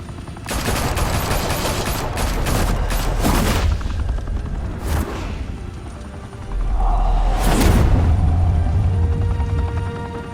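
Gunfire in the video game Batman: The Telltale Series, a dense burst of rapid shots followed by scattered blasts and booming impacts, loud and close, with no voices.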